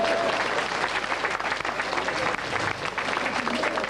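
An awards-ceremony audience applauds the organising committee, a dense continuous wash of clapping heard up close for the whole stretch, with a faint murmur of voices underneath.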